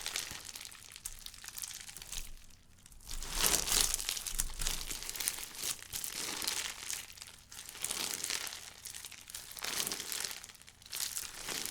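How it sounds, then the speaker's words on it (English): Continuous crackling and crinkling squishes of crunchy slime, close up, pulsing in repeated squeezes with brief quieter pauses between them. "It's definitely a crunchy slime"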